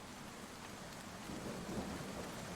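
Steady rain ambience with a low, distant rumble of thunder swelling slightly midway, a dense even wash of noise with no voices.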